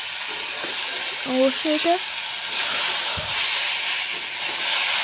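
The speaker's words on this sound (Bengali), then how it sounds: "তরকারিটা যেটা হবে। ভালো করে কষিয়ে নিচ্ছি।" Prawn curry being sautéed in a pan, giving a steady close sizzle and hiss that runs throughout, while someone speaks briefly over it.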